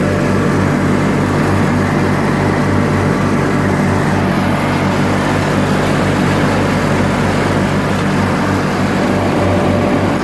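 A worn 1986 John Deere 318 lawn tractor mows, its engine running in a loud, steady drone with a low pulsing throb and broadband mower whir throughout.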